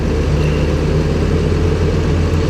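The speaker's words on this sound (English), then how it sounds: "Another truck coming in to dump." A dump truck arriving to tip a load of dirt at a stump-digging site rumbles loudly and steadily nearby, its heavy engine droning without pause.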